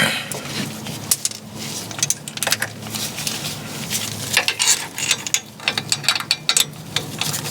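A ratchet tightens a bolt on a GM Vortec 5.7L starter motor in a Chevy, GMC or Cadillac truck or van, with quick close clicking strokes and small metallic clinks in uneven bursts.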